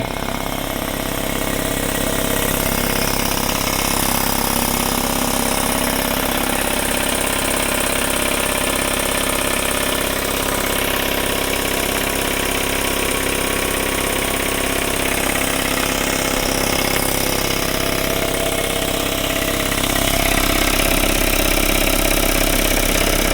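A Craftsman 5 HP, 20 gallon Sears air compressor runs loud and close with a continuous, rough motor drone that holds steady throughout and swells slightly toward the end, with no speech.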